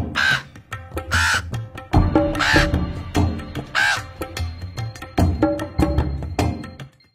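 Crows caw repeatedly and loudly at close range, harsh calls coming in quick overlapping series with short pauses, plus scattered clicks and rustles between them.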